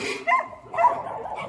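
Dogs in a row of kennels at a mountain home bark in two or three short, close yips and barks, with a brief pause between them.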